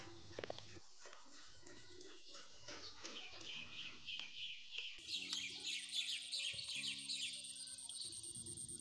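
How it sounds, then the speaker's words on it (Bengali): Birds calling outdoors on a rainy day in Bangladesh, with faint chirps and clucking calls at a distance, a denser twittering chorus after the midpoint, and quiet background noise. "আপনারা কি কোনো পাখির ডাক শুনতে পেলেন?"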